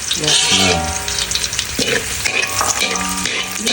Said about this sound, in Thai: ผัดกระเทียมให้หอมนะครับ